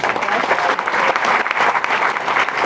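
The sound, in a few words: strong applause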